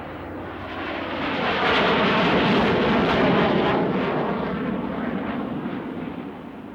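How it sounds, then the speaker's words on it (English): A SEPECAT Jaguar jet passes at very low speed, a loud broadband roar that swells over the first two seconds, holds steady, then slowly fades as it moves away. "As Jaguar flies by at very low speed"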